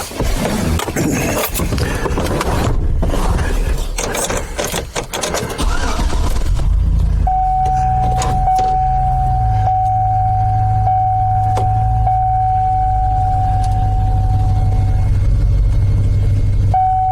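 A truck engine starts with a burst of cranking and rattling, then settles into a loud, steady idle rumble with a faint whine, running for about ten seconds before being put in drive.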